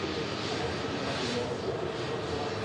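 EasyJet jet airliner taxiing at Manchester Airport, bound for Bari: a steady, even engine hum and broadband rush at moderate distance, constant throughout with no clear rise or fall.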